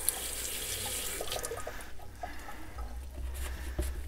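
Tap water runs steadily into a sink while an Instant Pot is rinsed, a soft continuous splashing hiss with a few faint clinks, fairly quiet and with no talking.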